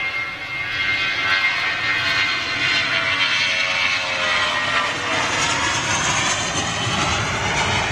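A Balkan Holidays MD-80 jet airliner at Manchester gives a steady, loud broadband engine roar that holds throughout without fading, with no talking over it.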